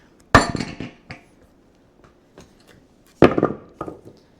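Sledgehammer blows drive a cylinder liner down into the block of a Cummins 855 Big Cam engine: two sharp, loud metallic strikes about three seconds apart, each followed by smaller ringing knocks, close in a quiet shop.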